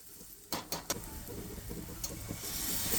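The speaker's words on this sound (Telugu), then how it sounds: "బాగా కలపాలి" A ladle stirs bottle gourd curry with curd in a hot pan, giving a faint continuous sizzle with a few sharp scraping clicks near the start.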